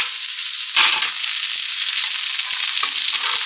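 Hot garlic sizzles loudly in oil and butter over a pan of shrimp-mushroom and salmon pot rice, a steady bright hiss that swells briefly with a fresh splash of fat.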